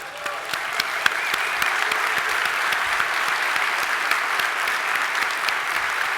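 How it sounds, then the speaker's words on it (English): A keynote audience at a FinOps conference applauds steadily, dense clapping filling the hall at an even level for several seconds with no voices over it. "Let's give them a round of applause, please"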